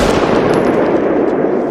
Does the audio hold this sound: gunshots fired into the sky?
yes